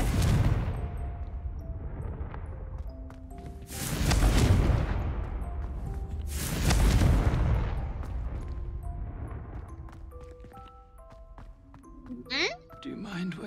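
Two loud, booming blasts from the Confringo fire curse in Hogwarts Legacy, each a heavy burst with a rumbling tail, set against game music and ambience, with a voice talking between them.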